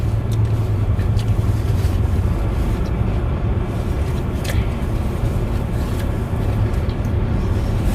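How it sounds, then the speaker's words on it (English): Traffic passing behind a roadside spot at midnight, a steady close rumble of cars going by without a break, loud and continuous. "we apologize about these cars back here"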